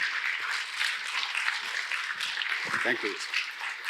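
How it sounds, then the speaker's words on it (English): Audience applause at a corporate event for IDBI Bank chairman Padmashri T N Manoharan, a steady crowd of clapping throughout, with a man thanking the audience over it near the end. "Big round of applause, please."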